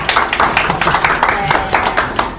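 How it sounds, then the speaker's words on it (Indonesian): A group applauds at a nighttime Halloween ghost-hunting event at a pyramid, with quick, loud, rhythmic claps from several people that form a short, lively burst. "Boleh tepuk tangan untuk kita semua"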